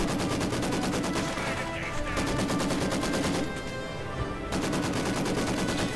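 Rapid automatic gunfire rattles almost continuously through a World War II Soviet real-time strategy battle, with heavy artillery barrage booms and brief lulls, dense and loud.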